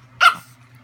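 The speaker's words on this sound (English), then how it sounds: "they are used to the dogs." A single sharp dog bark sounds close and loud over a steady low hum, then quiet follows.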